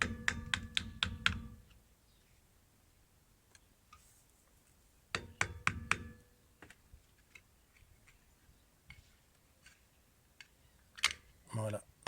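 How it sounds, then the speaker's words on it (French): A screwdriver taps repeatedly around the rear hub cap of a Citroën DS3 during a brake job, giving bursts of sharp metallic clicks in quick clusters, separated by quieter gaps, fairly close and without talk. "l'idée c'est de faire levier, de taper tout autour de la coupelle et pour la virer"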